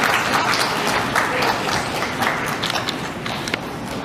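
Audience applause at a Health Icon award ceremony in Mumbai, a thick steady wash of clapping from a crowd filling the moment without pause.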